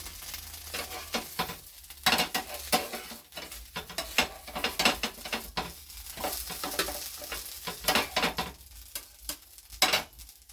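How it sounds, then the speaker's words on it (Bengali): Cut pieces of a homemade breakfast are moved onto plates with a knife. Scattered sharp clicks and scraping clinks of utensil on plate come in irregular bursts, close and fairly quiet. "আর এগুলো প্লেটে করে নেব।"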